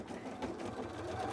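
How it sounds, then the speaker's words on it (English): Continuous whirring hum of a sewing machine stitching cosplay fabric, steady and fairly close, running alone without talk. "I think the sewing machine is kind of louder though"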